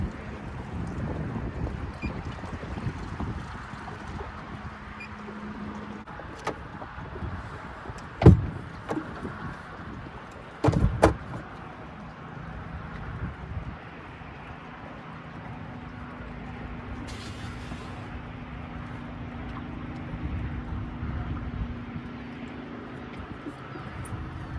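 A skiff powered by a Haswing Cayman 55 trolling motor runs back toward shore, a low steady hum under wind rumble and water noise, with a few knocks and someone talking at times.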